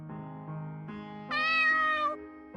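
A stray cat meowing in a horror video game, a close, clear run of drawn-out meows that rise into one louder, higher cry before dropping back, with no talk.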